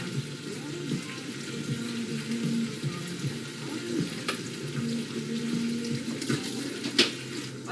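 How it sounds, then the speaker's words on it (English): Tap water runs steadily into a sink during washing up, a soft continuous rush with a few small clinks and knocks of dishes. "do some washing up"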